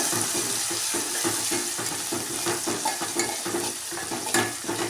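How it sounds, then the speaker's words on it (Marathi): Green chili thecha with garlic sizzles and fries in a pan while being stirred, giving a steady crackling hiss broken by repeated scraping strokes of the spoon, close and fairly loud. "ठेचा याच्यामध्ये छान भाजून घ्यायचा आहे."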